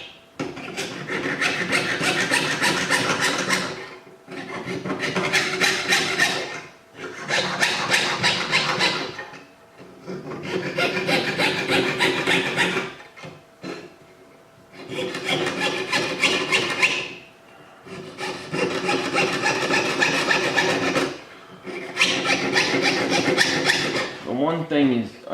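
A hand saw cuts through copper sheet in repeated bursts of rapid, rasping strokes, about seven runs separated by short pauses, up close.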